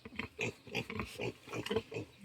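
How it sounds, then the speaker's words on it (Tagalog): A sleeping sow grunts repeatedly at close range on a farm in Palawan, low rhythmic oinks coming in a steady series with short pauses between them. "Tapos mayroon din ditong baboy guys,"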